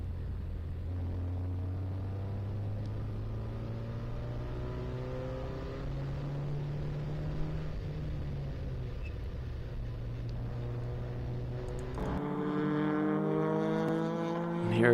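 Race cars at Thompson Speedway during a 12-hour endurance enduro, engines roaring down the front straightaway and braking hard into turn one, a steady loud drone whose pitch sweeps down and then climbs again as another car passes near the end.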